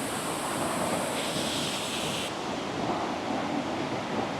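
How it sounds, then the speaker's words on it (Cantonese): Iguazu Falls on the Argentine side pours down a sloping drop, giving a broad, steady roar of rushing water with a windy, spray-filled hiss that stays constant and loud throughout, with no voices. "呢度咧就係啱啱有個瀑布嘅斜位咧，就沖啲水落去"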